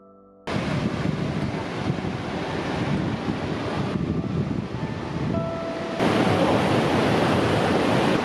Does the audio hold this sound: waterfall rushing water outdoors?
yes